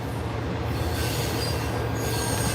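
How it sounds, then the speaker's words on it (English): A freight train with mid-train DPU locomotives rolls past close by, its wheels squealing steadily over a dense rumble of rail cars, loud and continuous with no voices. "Oh, look, it's the mid-train DPUs."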